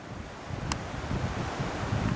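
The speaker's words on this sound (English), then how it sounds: "It's so windy at the moment" Strong wind buffets the microphone in a continuous low roar, with a faint brief tone partway through.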